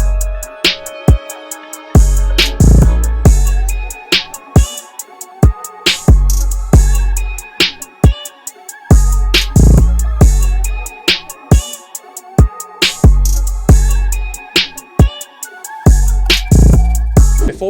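A hip-hop beat plays loud and up front: punchy kicks and snappy snares keep a steady groove, with quick hi-hat ticks over a deep 808 bassline and a repeating one-chord melodic loop.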